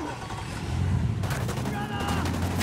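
Gunfire in Ghost Recon Wildlands during a boat ride, with sharp cracks of shots over a constant loud engine and water rumble, the firing picking up midway through.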